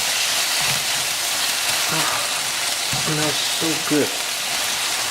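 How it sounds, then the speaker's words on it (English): Beef sizzles steadily as it is stir-fried in a hot pan, a constant close hiss with faint clinks of stirring, while someone speaks briefly over it. "See, we just keep stir fry them."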